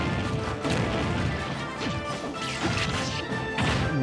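A forward smash attack lands in Super Smash Bros. Melee (Wolf against R.O.B.), with a dense run of crashing hit impacts over busy game audio, loud throughout.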